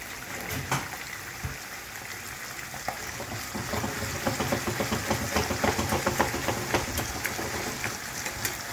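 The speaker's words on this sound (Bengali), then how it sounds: "একটু মাছটাকে উপর নিচ করে নিই" Fish pieces fry in hot oil in a pan while being turned over, a busy crackling sizzle with scraping and clinking of a utensil, growing louder and more spattery toward the end, no talking.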